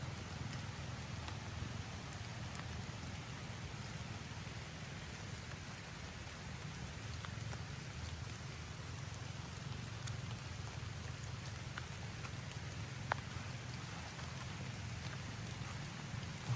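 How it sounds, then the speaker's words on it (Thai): Steady rain falls continuously with an even hiss, with occasional faint drops tapping nearby and no voices. "ฝนตกอีกแล้วทุกคนนะฝนยังตกเรื่อยๆทุกคน"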